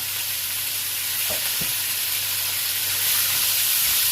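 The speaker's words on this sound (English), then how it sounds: "Chicken in. You can hear the sizzle." Steady, loud sizzling of chicken frying in a hot pan for paella, a continuous bright hiss with a few faint knocks.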